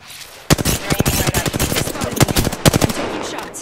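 Rapid automatic gunfire in the battle game Apex Legends, close and loud bursts of tightly spaced shots with brief pauses between volleys.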